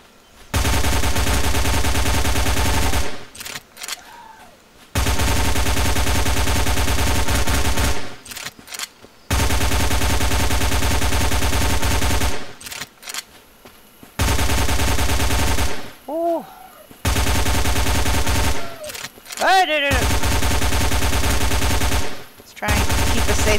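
Automatic gunfire in The Zone video game, loud sustained bursts of rapid shots separated by short pauses, with brief electronic tones between some bursts.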